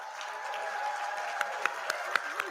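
Scattered clapping from a small press conference audience announcing Michael Vick as Norfolk State head football coach, several sharp hand claps over a steady background murmur of the room.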